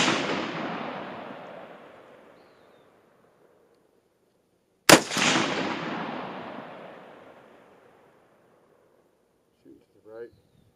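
Two loud rifle shots from an AK-47 firing hand-loaded, brass-cased, boxer-primed 7.62x39 rounds with Hornady 123 grain spire point bullets, about five seconds apart, each with a long outdoor echo fading over several seconds, then faint handling clicks.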